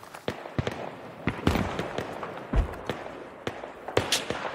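In the Battlefield 3 Project Reality mod, gunfire rings out as a series of sharp, irregular shots, some close and punchy, others more distant.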